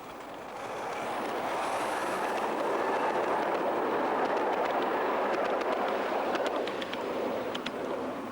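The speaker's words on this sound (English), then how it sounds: "Trains departing in the up direction, such as this one in the hands of unpainted Great Western Railway Hall Class" A miniature steam locomotive, a model Great Western Railway Hall Class, rumbles past at close range on a miniature railway with a steady, loud roar, building up at the start and carrying faint rhythmic clicks of wheels on rails.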